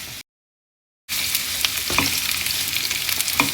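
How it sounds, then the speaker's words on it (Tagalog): Onion and garlic sautéing in hot oil in a pan, a bright, steady sizzle that starts abruptly after a brief silence, with a few stirring knocks, close and alone. "magisa na tayo ng sibuyas at bawang"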